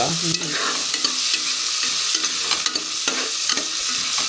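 Onions stirred and frying in a pan for tomato bath, a steady crackling sizzle with repeated scraping strokes of a spoon at a regular rhythm, close and fairly loud with no talking.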